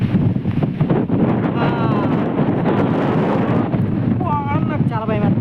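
Strong gusting wind ahead of rain roars and buffets the microphone outdoors while dust blows about, with a person talking intermittently over the rushing noise.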